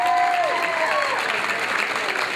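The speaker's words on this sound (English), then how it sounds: "Let's give a round of applause for John Abraham." A wedding-reception crowd applauds for the best man, dense loud clapping with a few cheers, fading slightly over two seconds.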